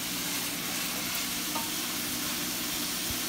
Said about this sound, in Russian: Итак, будем обжаривать лук.